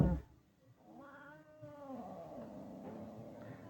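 A cat lets out a drawn-out, wavering meow at moderate volume, then a quieter, grumbling caterwaul over faint background noise.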